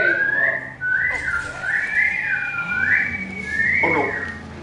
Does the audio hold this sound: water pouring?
no